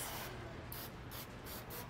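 A can of cooking spray sprays in several short hissing bursts, close and fairly steady, with no voices.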